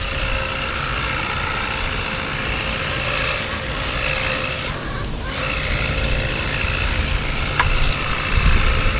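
Gas-powered grass cutter engine running continuously at a distance, a steady high-pitched motor whine under outdoor background noise.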